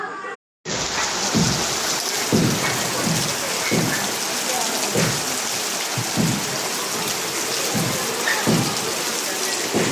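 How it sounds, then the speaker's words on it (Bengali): Heavy rain pours steadily onto surfaces as wind gusts, a dense continuous hiss with recurring surges and a brief dropout near the start. "জাডে অনেক বৃষ্টি হইতেছে কেন বাতাসও মারে বাতাসও আছে বাতাসও মারতেছে।"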